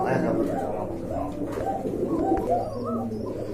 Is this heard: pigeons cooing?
yes